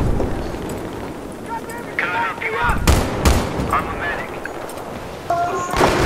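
Gunfire during a Battlefield 3 tournament match on the Grand Bazaar map, with sharp shots and short bursts popping in and out over background game noise while players talk.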